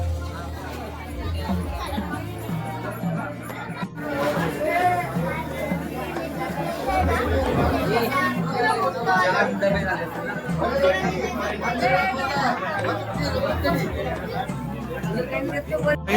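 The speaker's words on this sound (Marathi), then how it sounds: "आता जबरदस्त गर्दी आहे." Dense crowd chattering at the Swami Samarth temple in Akkalkot, a steady babble of many overlapping voices with a low hum beneath, close and continuous throughout.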